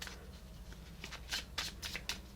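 Oracle cards are shuffled close by in quick crisp bursts of riffling and flicking, growing louder toward the end over a faint low hum, with no talk.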